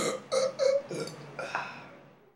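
A burp sent in by a viewer: a short series of loud, wet eructation bursts, about four or five in quick succession, trailing off into a fading rasp, with no talking.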